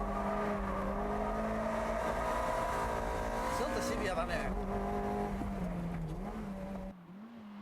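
A Toyota MR-S with a 2ZZ engine revs on a racing track, its steady high engine drone rising and dipping with throttle, and someone speaks briefly over the engine noise near the end.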